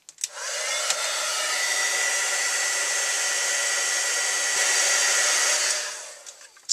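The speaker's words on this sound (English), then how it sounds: "Take my clear embossing powder, and then I'm going to heat set this." A heat gun sets clear embossing powder on a handmade card, blowing with a loud, steady, even roar for about six seconds before it switches off.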